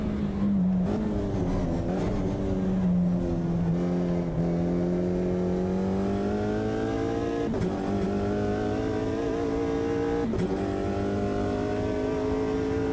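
Race car engine in a sim racing video game, loud and continuous throughout, with rising and falling revs as it accelerates and shifts gears, close and steady.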